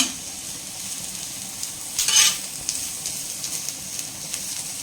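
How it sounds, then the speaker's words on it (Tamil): Sliced onion and green chili sizzle softly in hot oil for an omelette, a steady low frying hiss with a brief louder scrape of stirring in the middle. "ஆனியன் கொஞ்சம் வதக்கிட்டு நான் வந்து ஆம்லேட் செய்வேன்"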